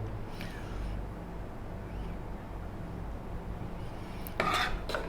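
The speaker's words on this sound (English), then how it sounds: "we're going to spoon this out over our vegetables here" A spoon scraping and dabbing cheese sauce onto broccoli and cauliflower in a dish, soft intermittent wet scrapes close by, ending with a brief louder clatter of metal on dish.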